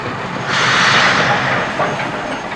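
A steam train releases a loud, close burst of hissing steam that swells, holds for about a second, then tapers off over a low rumble.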